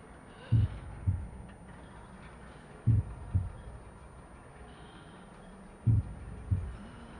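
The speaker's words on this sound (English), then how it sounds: "I think I hear your pulse." A slow, steady heartbeat from a cassette tape in Metal Gear Solid V: The Phantom Pain, three double thumps, each a lub-dub pair, evenly spaced over a quiet, faintly humming background.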